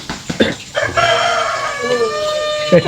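A rooster crows at night, a loud close cock-a-doodle-doo with a long drawn-out falling call, preceded by a few short clucks and brief voice sounds.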